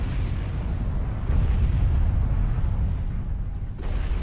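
Sustained rumbling bombardment explosions in the space game Star Trek Online, a dense continuous low roar of booms that swells louder midway and stays heavy throughout, with no voices.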